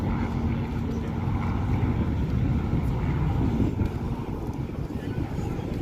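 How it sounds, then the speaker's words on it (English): A de Havilland Mosquito wooden warplane makes a low pass at the Central Coast Airfest 2023, its piston engines giving a steady, loud drone throughout, with wind buffeting the microphone. "Steve Hinton in the Mosquito bringing it down and low."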